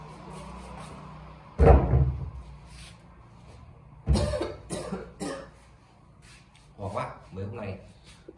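A person sick with a cold coughs in a few harsh close bursts, one early and a cluster in the middle, between stretches of talk in a quiet room.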